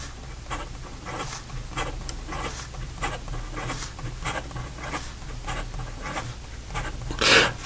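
Diplomat Aero fountain pen nib scratching quickly across paper in rapid, rhythmic strokes, close and fairly quiet, with a louder scrape near the end.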